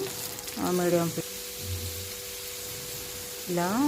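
Cumin and mustard seeds fry in oil with a faint continuous sizzle running under a person's talking.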